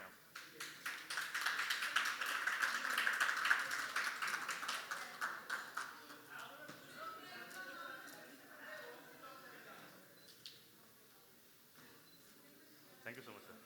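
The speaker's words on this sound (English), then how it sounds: "Let's give a huge round of applause." Audience applause for a guest speaker at an AI governance business event, with a fairly close, lively patter of claps that swells and then thins out as voices talk over it.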